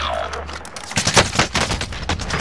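Rapid bursts of gunfire from a video game shootout, a dense run of sharp repeated shots filling the clip at close range after a brief low rumble.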